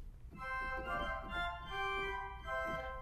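Principal stop on a hybrid church organ combining real pipes and digital stops, playing a clear sustained melodic line of several held notes, steady and moderately loud with no voices.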